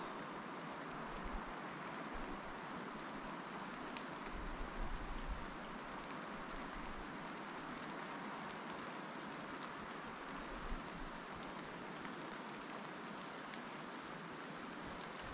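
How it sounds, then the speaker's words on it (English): Rain falls steadily at 2,100 feet elevation on a foggy road trip in Pennsylvania, a dense even patter and wash heard without interruption for the whole stretch. "Listen to the rain."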